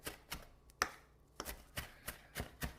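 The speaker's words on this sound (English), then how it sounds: "the parsley all chopped up" A knife chops parsley on a cutting board in sharp, irregular strokes, about eight crisp taps, close and fairly quiet with no talking.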